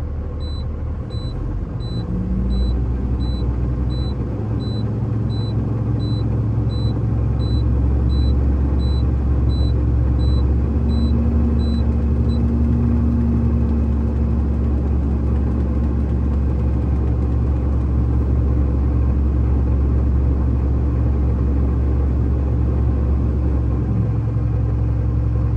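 A truck engine idles steadily to build the primary and secondary air brake tanks back up to pressure, a loud, close, continuous low rumble with a faint whine above it and no talking.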